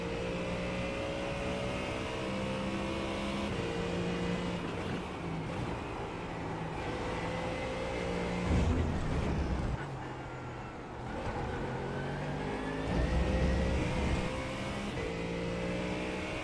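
A Ferrari race car engine in a racing video game at Road Atlanta, droning steadily with clear tonal harmonics, shifting pitch as it revs up and down through gears, loud and continuous throughout.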